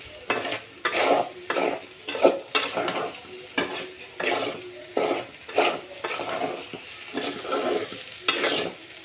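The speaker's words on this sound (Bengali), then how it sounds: "লবণ দিয়ে আরেকটু ভেজে নিব চালটাকে" Rice being fried with salt in a pan for pulao, rhythmic bursts of stirring and scraping over a gentle sizzle, close and repeated at a steady pace without talk.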